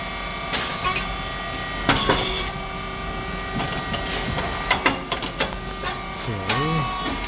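A SYP4509 rice cake machine with Teflon-coated moulds runs with a steady mechanical drone, punctuated by sharp pneumatic clacks and hisses, plus a brief rising-falling whine near the end.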